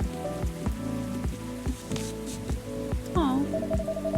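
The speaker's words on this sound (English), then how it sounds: "Place to be safe when the rain falls outside." Rain patters softly outside in the video game Coffee Talk, a faint background hiss beneath a gentle melodic music track with plucked notes and a brief chime.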